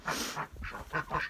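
Pet ducks quacking and honking up close, several loud nasal calls bursting in quick succession over about a second.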